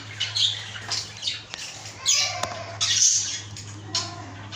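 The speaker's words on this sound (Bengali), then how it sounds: "এগুলো হলো ঘুঘু পাখি" Doves kept as pets giving short squawking calls in quick bursts, close by over a low steady hum, with no talking.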